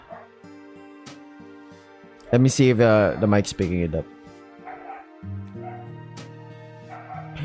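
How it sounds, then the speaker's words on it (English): A neighbor's dog barks and yips in a quick loud burst partway through, nearby, while someone speaks quietly over steady electronic background tones. "Sorry for the dog noises"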